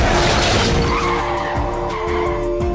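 A car skids with a loud tire squeal over a rumbling engine, the screech sliding in pitch as the vehicle slides, heard close and intense with no talk.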